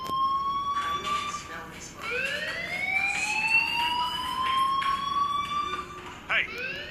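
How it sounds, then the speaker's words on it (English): A fire alarm rings in the Life is Strange video game, a loud wailing electronic tone that rises and sweeps repeatedly, with faint background sounds beneath. "do you hear that fire alarm? That means you should be outside."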